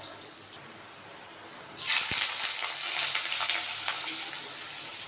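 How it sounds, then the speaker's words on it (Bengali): Cumin seeds, a dried red chili and a bay leaf dropped into hot oil in a village kitchen, a sudden loud crackling sizzle that bursts in after a quiet moment and keeps spitting steadily, close by with no talking. "তেলটা গরম হয়ে গেছে, জিরে ফোড়ন দিলাম, দিয়ে দিলাম জিরে, এক শুকনো লঙ্কা,"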